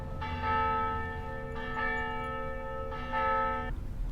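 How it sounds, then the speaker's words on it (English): Three clear strokes of a mission church bell ringing at noon, each ringing tone sustaining and overlapping the next at an even pace, moderately distant and alone with no voices. "You can tell because the bell is ringing at the mission."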